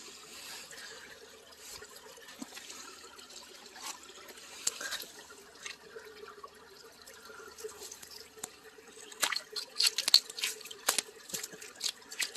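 A hillside spring trickles into a creek, a steady soft water wash with scattered drips and splashes that grow livelier and brighter toward the end.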